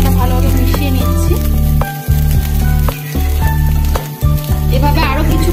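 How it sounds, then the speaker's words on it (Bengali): Fish roe frying in a pan as coriander leaves are stirred in, giving a loud, close, continuous sizzle with intermittent scraping strokes of stirring. "ধনে পাতাটা ভালোভাবে মিশিয়ে নিচ্ছি"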